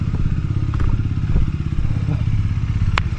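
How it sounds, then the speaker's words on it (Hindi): A Bajaj Dominar 250 motorcycle idles after a cold start, a loud, close, steady engine chug with a fast pulsing beat and a couple of faint clicks and knocks. "तो this is my bike, cold start हो रहा है।"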